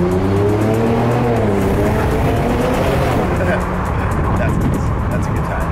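Engine of an Infiniti Q60 with about 510 horsepower accelerating on the road, a loud sustained rising drone heard from inside, with people talking over it.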